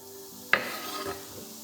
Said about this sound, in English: crank up the heat on that pan, add some olive oil and get those mushrooms sizzling